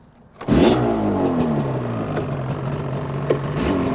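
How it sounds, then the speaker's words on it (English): A Yamaha RD350 YPVS two-stroke motorcycle with Micron exhausts is kick-started and fires up, then revs in crisp, loud, close blips over a rough, burbling idle. "Kick start out, and start with a little bit of rev"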